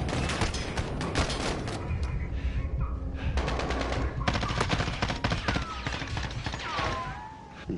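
Dense machine-gun fire in the Modern Warfare campaign rattles in loud bursts and sustained volleys, with overlapping shots and louder game effects throughout.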